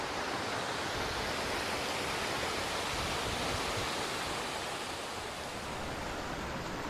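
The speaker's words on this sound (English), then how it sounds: "I'd say this is the top of the waterfall." A waterfall on a Costa Rica hike, heard from its top, roars in a constant, loud, broadband rush of falling water that fills the whole stretch without change or voices.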